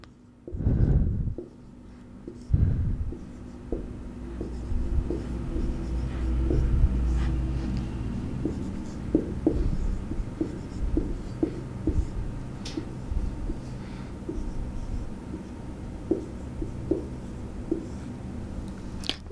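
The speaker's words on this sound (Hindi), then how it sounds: "मैं 4 ऑप्शंस आपके लिए लिख रही हूँ पहले।" A pen or marker writing out four answer options on a board during a Hindi class lesson: scratchy strokes and taps in uneven bursts, close, with brief pauses between words.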